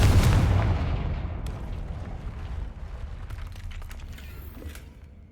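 A Confringo blasting spell goes off in the video game Hogwarts Legacy, one loud booming explosion right at the start that rumbles and decays over several seconds, with faint crackling debris afterward.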